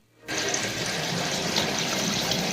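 Water leaks from a toilet pipe with a loose gasket during a villa renovation, starting abruptly after a brief silence and then rushing in a steady, loud, continuous flow.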